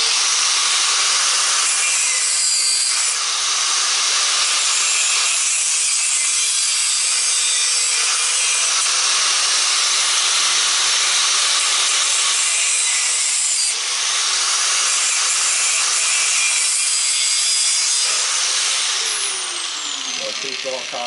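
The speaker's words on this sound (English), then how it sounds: "well, I got the grinder in my hand." Handheld grinder cleaning brass and copper pieces, a steady loud abrasive whine running almost continuously with brief dips as the tool shifts on the metal.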